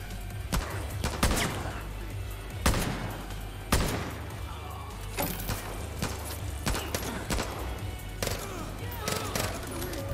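SMG gunfire in the video game Far Cry New Dawn, with sharp bursts of shots scattered irregularly over a busy game soundtrack, some close and loud, others lighter.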